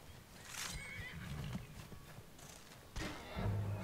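A horse whinnies briefly near the start in Skyrim, followed by scattered hoof thuds and ambient game sounds, with a louder thump near the end.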